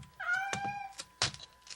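A cat meows in the audiobook sound effect for Edgar Allan Poe's "The Black Cat," as the animal follows down steep cellar stairs: a drawn-out tonal mew, a short second call near the end, close and alone.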